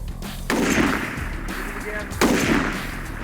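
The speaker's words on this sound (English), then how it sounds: "Robbie Johnson sends 2 downrange and gets ahead of the judges." Sniper rifle shots at an international sniper competition, 720 grain bullets fired downrange at a 500 meter target: two loud sharp reports about 1.7 seconds apart, each with a long rolling echo.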